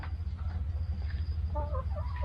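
Chickens clucking in a budget-built backyard chicken coop, with several short calls rising above a steady low rumble of background noise.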